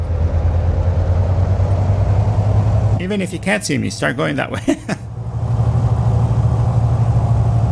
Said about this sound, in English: Oh my gosh, the sound of these engines.